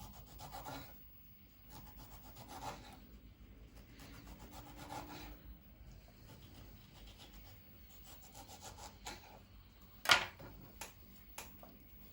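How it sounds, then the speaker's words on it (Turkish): A knife slices tomatoes on a board for an oat meatball casserole, soft quiet rhythmic rubbing cuts with one sharper knock near the end. "Son aşamaya geldiğimiz için domatesi de kesiyorum."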